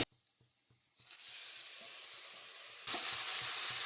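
Curry leaves and chopped tomatoes drop into a pan of golden fried onions, bringing a loud, steady sizzle and hiss that jumps louder again partway through, with no voices.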